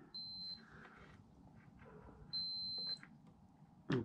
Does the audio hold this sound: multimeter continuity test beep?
yes